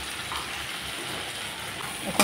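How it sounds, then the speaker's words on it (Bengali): Prawn legs frying crisp in hot oil for a Bengali prawn recipe, giving a steady, even sizzling hiss that runs throughout with no voices. "এখন পাগুলোকে আমি একটু কড়া করে ভেজে নিই।"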